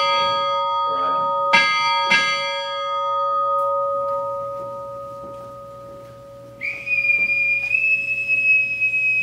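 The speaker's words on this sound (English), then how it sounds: "Bell ringer, strike 4 bells." A ship's bell is struck at a Navy retirement ceremony, sounding in two clear paired strikes that ring out and decay over a sustained tone, followed by a shrill whistle near the end.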